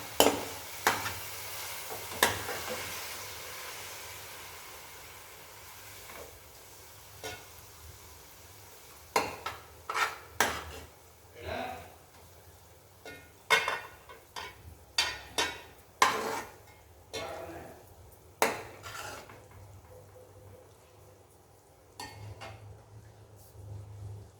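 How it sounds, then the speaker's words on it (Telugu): Beetroot halwa scraped and spooned from a pan into a serving bowl, with a series of close, sharp metal-on-metal clinks and scrapes coming in irregular clusters over a faint sizzle, and no one speaking. "ఇప్పుడు నేను సర్వింగ్ బౌల్లోకి తీసుకుంటున్నాను"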